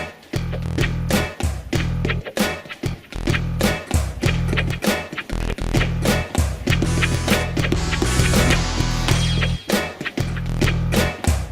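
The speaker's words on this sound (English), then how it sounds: "The resulting groove sounds something like this." Groove played on a Roland TD8 electronic drum kit, built from pads struck in varying orders: dense, steady repeating beats with punchy low thumps and sharp transient hits, loud and continuous throughout with no talking.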